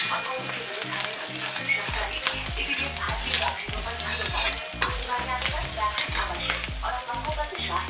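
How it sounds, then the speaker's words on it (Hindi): Masala fries in a pan, giving a continuous crackling sizzle with a rapid run of rhythmic scraping strokes from a spoon underneath, close by, with faint speech in the background. "ये देखिए हमारा मसाला भुन रहा है।"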